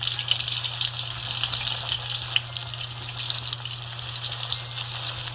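Chicken fries in hot oil with a continuous soft crackling sizzle, scattered faint pops and a low steady hum behind it, and no one speaking.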